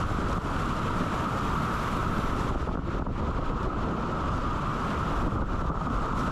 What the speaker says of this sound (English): Hear the wind picking up.